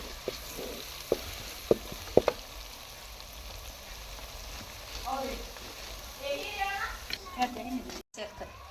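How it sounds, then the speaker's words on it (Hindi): Garlic-ginger paste and spices fry in oil with a continuous soft sizzle, a few sharp utensil clicks early on, and a voice talking over the cooking. "लहसुन अदरक का पेस्ट डाल दिया। मसाले को अच्छी तरह से भूनेंगे।"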